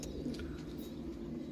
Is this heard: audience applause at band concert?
no